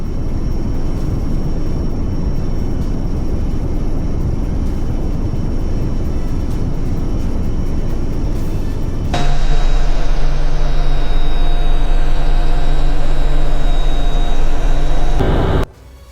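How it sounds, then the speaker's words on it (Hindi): Six Rafale fighter jets fly over the 2026 Republic Day parade, first as a loud, broad roar, then as a steadier, droning engine tone with whining overtones that cuts off abruptly. "वायुसेना की जो गर्जना है वो आसमान की हवाओं को चीरती हुई आगे बढ़ रही है"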